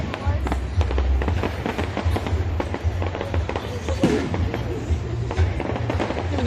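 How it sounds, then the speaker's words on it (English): A bonfire night fireworks display crackles and booms continuously at a distance, dense bursts and pops layered over low rumble, with people faintly talking in the background. "Great fireworks display."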